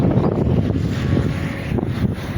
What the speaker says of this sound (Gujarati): પવન વધારે આવે છે ને એટલે